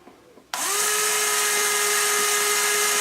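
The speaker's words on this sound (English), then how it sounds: "We're going to drill through" After a quiet moment, a power drill fitted with a 1/16 inch bit starts abruptly and whines loudly and steadily as it bores through a metal drum lug, running alone to the end.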